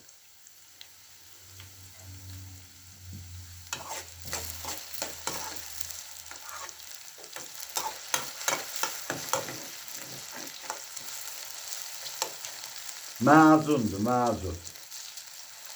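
Potatoes fry in a pan for an Azerbaijani home-cooked dish, giving a steady crackling sizzle with scraping stir strokes. A voice speaks briefly near the end.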